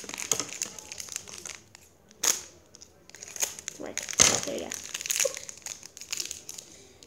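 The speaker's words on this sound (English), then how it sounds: "Let's open up all of them. I'll snip them all up." Plastic blind bags from a stocking-themed set crinkling and crunching as they are snipped open, with bursts of sharp crackling rustle close by, some louder crunches, and people talking between them.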